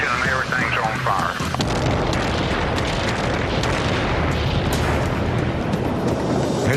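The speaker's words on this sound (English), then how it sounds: "An earth-shattering explosion in a rocket fuel factory rocks this small desert town." A huge explosion at a rocket fuel factory in the small desert town of Henderson, Nevada roars as a loud, sustained, broadband rumble and blast with no break.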